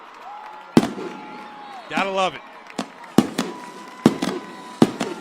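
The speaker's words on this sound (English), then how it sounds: "And here come more fireworks." Fireworks bursting at a high school football game at halftime, several sharp booms and cracks spaced irregularly with a whistling rise among them, over crowd murmur, with a commentator speaking briefly.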